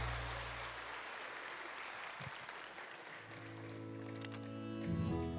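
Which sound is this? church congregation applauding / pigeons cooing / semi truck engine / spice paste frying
church congregation applauding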